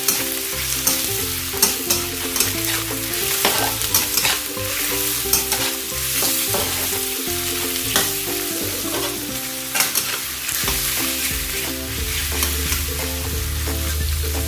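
Cucumber and egg stir-fry being stirred in a hot pan, with a steady sizzle and repeated spatula scrapes throughout and tonal music running underneath.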